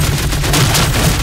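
Gunshot fired by officers during a chase scene in a film, a short loud burst of blasts in quick succession, close and harsh, with no speech.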